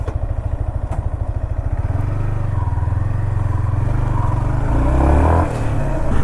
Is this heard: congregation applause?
no